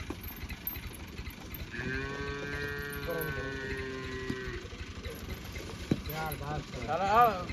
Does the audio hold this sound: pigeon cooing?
no